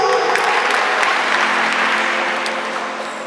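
Wedding guests applauding, a dense, loud, continuous wash of clapping from a crowd that holds steady and slightly tapers toward the end, with no talk over it.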